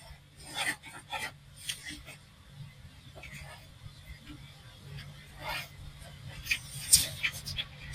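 Pencil or marker scratching and rubbing across a cardboard box while measurements are marked out, a series of short dry strokes at close range with faint background noise.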